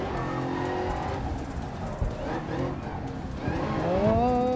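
A race car in GRID Legends drops through its gears, engine revs rising and falling with tire squeal and skidding, loud and continuous, with a voice speaking over it.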